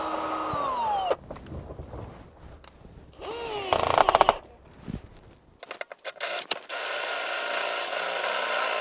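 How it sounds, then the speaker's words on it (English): A power drill enlarging a pilot hole with progressively bigger bits, several bursts of motor whine rising and falling in pitch, with brief stops and restarts between them, and a steady high whir at the end. "I'm just going to step that up a couple normal drill bits just to get a bigger hole for us to work with."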